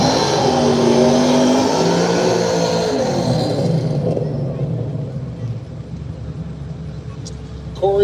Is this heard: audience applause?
no